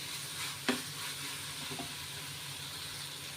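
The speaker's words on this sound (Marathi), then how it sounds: "मसाले भाजले जात आहे" Spices, onion and tomato frying in a pan for a sprouted val bean dish, a steady soft sizzle with a sharp stir clack early on and a fainter one later.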